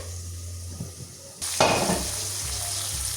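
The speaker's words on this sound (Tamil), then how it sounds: "இப்போ நாங்கள் பார்ப்போம் எங்களோட மசாலா எல்லாம் இந்த வெங்காயம் எல்லாம் எப்படி வதங்கிக்குது" Onions and masala sautéing in a pan for chicken curry: a quieter stir at first, then a sudden louder hiss as the sizzle jumps up and holds steady, with a few soft spoon scrapes, close by.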